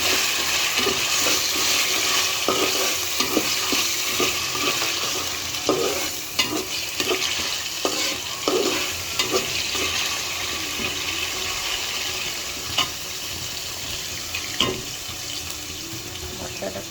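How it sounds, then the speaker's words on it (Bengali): Chicken curry stirred and sautéed in a pan, with repeated scraping and clinking strokes over a steady frying hiss, close and fairly loud, no talk. "খুব ভালো করে কষিয়ে নিচ্ছি"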